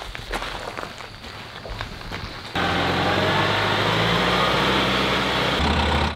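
A farm tractor runs with a steady low engine rumble that starts abruptly partway through and holds loud and even, after a stretch of lighter clattering and footsteps.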